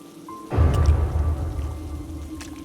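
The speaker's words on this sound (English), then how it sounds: "walked through the rain towards home." Rain falls heavily in an animated mystery scene, a sudden broad hiss with a low rumble starting after a brief quiet moment, then continuing steadily and slowly easing.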